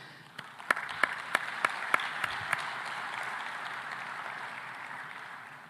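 Audience at a food systems forum in a large convention hall applauding, a wash of distant crowd clapping with a few sharp nearby claps at the start, fading into a sustained murmur of applause.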